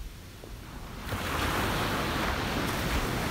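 Loud ocean waves crash and surge onto a beach in the morning, a steady roar of surf that swells after the first second, with some wind buffeting and no voices.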